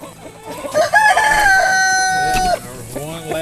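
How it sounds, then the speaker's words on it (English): Chickens in a garden, with one rooster crowing a loud drawn-out call up close and hens clucking around it in short bursts. "Oh, we got chickens everywhere."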